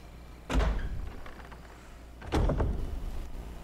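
Big door opening in the video game Resident Evil HD Remaster, two heavy thudding creaks about two seconds apart, each with a deep rumbling tail, close and fairly loud with no talk.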